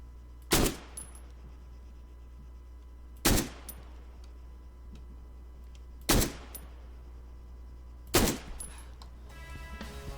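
A Cuirass 9.3mm marksman rifle in Arma 3 fires four loud, sharp single shots spaced two to three seconds apart, each with a short echoing tail over a low background hum.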